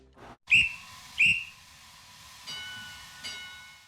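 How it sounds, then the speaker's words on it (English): A railway guard's whistle sounds at a station, two short shrill blasts close together, followed by fainter sustained whistle tones from the train. "that's the guard's whistle"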